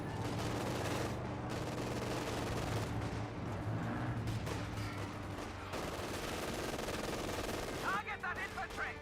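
MG42 machine gun fire in a Company of Heroes 2 battle, dense bursts of automatic gunfire mixed with explosions and battle noise, running continuously with a brief sharper crackle near the end.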